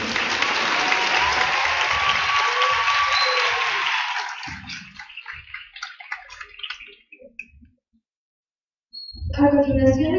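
Loud, dense applause from an audience at a school anniversary festival after a student's presentation, steady for about four seconds, then thinning into scattered claps that fade to silence before a voice starts speaking.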